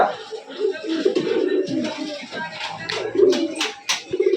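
A caged pigeon coos in low, rolling phrases nearby while someone talks over it.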